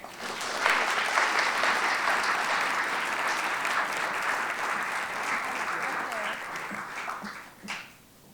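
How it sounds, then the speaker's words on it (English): An audience at a community volunteer awards ceremony claps in a sustained, dense round of applause that holds for several seconds before tapering off. "Kalinda, we applaud you and appreciate your work"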